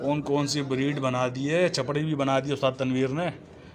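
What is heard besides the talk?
No distinct noise like a dog, phone or traffic.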